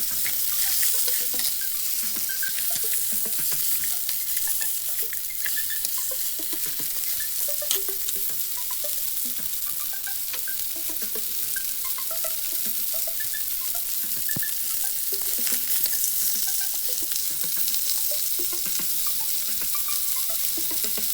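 Lamb chops fry in a pan with a steady, loud sizzle and crackle, accompanied by scraping and turning sounds throughout, with occasional faint water or sink noise in the background and no talking.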